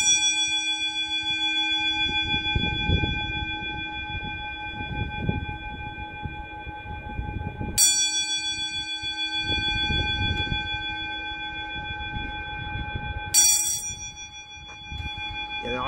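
Church bells ring for Easter with sustained, overlapping tones, struck anew twice, sounding from a distance over a low background murmur.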